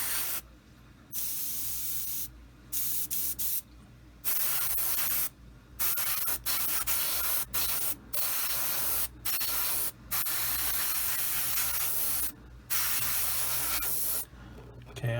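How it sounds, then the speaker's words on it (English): Airbrush spraying paint onto a Bandai 1/72 X-Wing Starfighter model, a steady close hiss in repeated bursts separated by short pauses, with no talking. "I got something weird going on with this airbrush."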